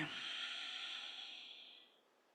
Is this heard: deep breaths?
yes